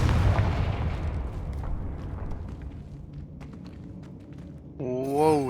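A Confringo spell blast in Hogwarts Legacy: a booming explosion at the start that decays into a long rumbling tail, followed near the end by a rising, wavering magical whoosh.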